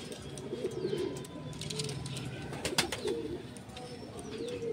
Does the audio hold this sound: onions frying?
no